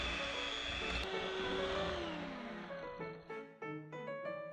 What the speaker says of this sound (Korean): 풀어놓은 버터에 계란 노른자를 하나 넣고 한 번 더 저속으로 풀어주세요.